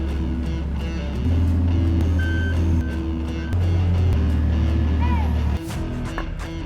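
A truck reversing with a load of machinery, its engine rumbling in steady stepped surges while electronic reversing beeps sound nearby.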